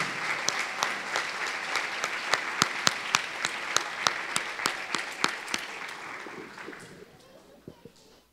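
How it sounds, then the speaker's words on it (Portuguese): A church congregation applauds strongly, a dense, steady wash of many hands clapping with sharp individual claps standing out, then gradually thinning and fading toward the end. "Vamos aplaudir ao Senhor bem forte."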